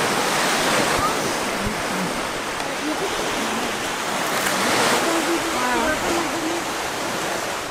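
Surf washes steadily onto a beach in Kenya, a continuous broad roar of breaking waves with gentle swells in loudness, close and fairly loud, with faint birdlike chirps scattered through it.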